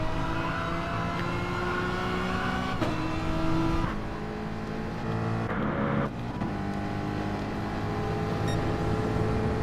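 Touring cars racing at Monza in a video game, a Ford Mustang among them, engines droning at a steady high pitch with shifting tones as cars pass and shift gears, loud and continuous without voices.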